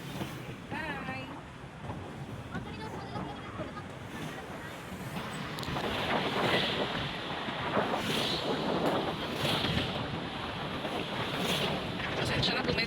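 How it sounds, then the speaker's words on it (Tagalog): Wind buffets a handheld microphone during an evening walk or jog outdoors, a steady broadband rush that swells louder in the second half and never lets up. "medyo maingay yung hangin"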